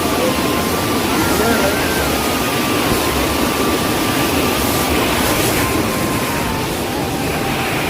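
A large waterfall near Narsinghnath temple in Odisha during the monsoon season roars as a steady, loud, unbroken rush of water, with a voice faintly present beneath it.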